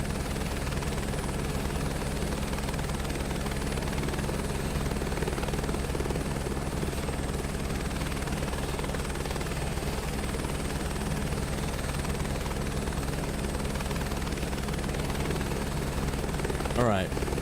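Tandem rotor helicopter in a flight simulator game, a steady, loud thudding rotor drone with engine whine, continuous throughout, with someone talking over it.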